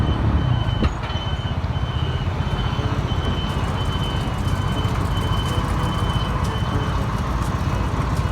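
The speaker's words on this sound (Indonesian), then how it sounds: "Ini mobil derek teman-teman." A tow truck drives with its reversing beeper repeating steadily over a loud, continuous diesel engine rumble, with traffic noise close by.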